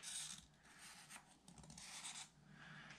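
Faint scratchy rubbing of a pencil tracing outlines on a wooden guitar body, a series of short strokes with brief pauses, close and quiet.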